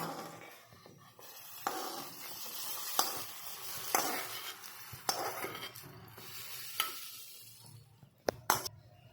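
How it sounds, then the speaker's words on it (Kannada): Ghee and cashews go into a pot of rabdi and sizzle against the hot milk as a spoon stirs and scrapes. Metal clinks ring out at intervals over a steady low bubbling. "ಈಗ ತುಪ್ಪ ಮತ್ತು ಗೋಡಂಬಿ ಕೂಡಿ ಇದ್ರೊಳಗೆ ಹಾಕ್ತೇನ್ರಿ"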